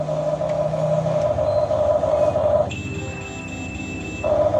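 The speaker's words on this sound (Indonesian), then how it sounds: "kalau sudah ada bunyi beep kayak tadi, artinya sudah terkoneksi" A Huina 1550 RC excavator connecting to its remote gives off loud, steady electronic beep tones that shift pitch midway and then return, with a mechanical hum underneath and no talking.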